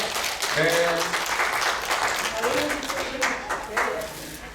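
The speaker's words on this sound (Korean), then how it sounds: "박수 부탁드리겠습니다" An audience claps at an award ceremony in a hall, with moderate, continuous clapping under intermittent talking from an emcee.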